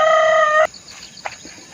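An outdoor bird in Taiwan gives a loud, close, sustained harmonic call that cuts off abruptly, followed by a few faint chirps in the background.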